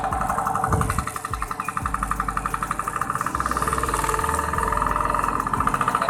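A 1970 Vespa Super round-head scooter engine runs on a test ride, its two-stroke putter throbbing in a steady rapid rhythm, rising and settling through gear changes and close to the microphone.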